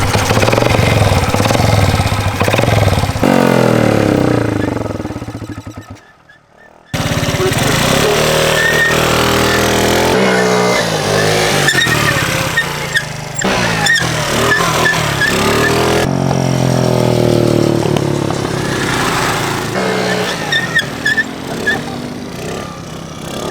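A cold 50cc scooter engine runs rough and loud close to the mic, sputtering and revving unevenly, cutting out briefly then restarting, while people talk over it.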